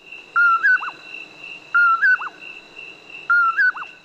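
A short bird call repeats three times at a steady pace as a podcast intro, each a whistled phrase followed by a quick downward note, clear and close over a faint steady tone.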